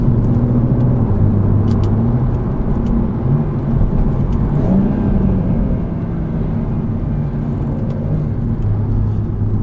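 A BMW M140i on a stage 3 gearbox map drives in sport manual mode, its engine a loud steady rumble inside the cabin with a dense low drone throughout and no distinct gear-change breaks standing out.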